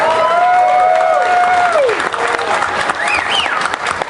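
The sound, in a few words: crowd applauding at barbecue festival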